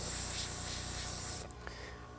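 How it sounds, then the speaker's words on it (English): Airbrush spraying paint onto a board, a steady airy hiss held for over a second before cutting off, followed by a couple of faint clicks. "spray on your board up on the side. Make sure that it's still spraying correctly."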